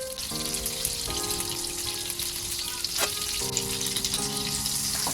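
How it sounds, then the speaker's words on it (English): Eggplants frying in hot oil for Hyderabadi bagara baingan, a continuous close sizzle and crackle with a few clinking taps of a utensil, steady throughout with no voices. "So once the oil is hot, I'll go ahead and fry the eggplants."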